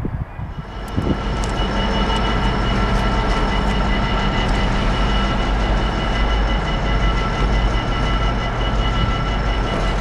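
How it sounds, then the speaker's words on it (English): An unannounced Old Oak Common to Derby test train passes on the railway line, a loud, close, continuous rumble and roar of rolling stock and engine that builds in the first second and holds steady. "I think that's Old Oak Common to Derby test train."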